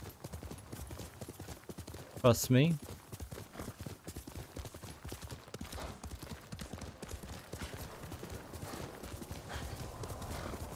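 A horse in Ghost of Tsushima gallops with rapid rhythmic hoofbeats throughout, letting out a loud whinny early on, while someone speaks briefly.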